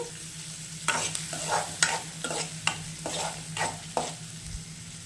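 Capsicum and onions roasting in a pan, a steady sizzle broken by repeated stirring scrapes of a utensil against the pan, about five distinct strokes, close and clear with no talk.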